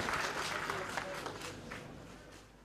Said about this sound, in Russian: Ваши аплодисменты, уважаемые дамы и господа!